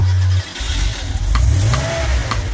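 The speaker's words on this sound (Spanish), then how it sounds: "Súbete a mi coche que arranco el motor." Car engine starting and revving as a sound effect in a Spanish-language pop song, a low engine note rising into a revving rumble beneath the music.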